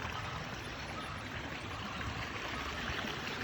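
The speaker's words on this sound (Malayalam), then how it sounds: "നല്ല അടിപൊളി ക്രിസ്റ്റൽ വാട്ടർ, ചെറിയ വെള്ളച്ചാട്ടം." A clear, shallow stream with a small waterfall rushes and trickles steadily, a continuous broadband wash of water close by with no pauses.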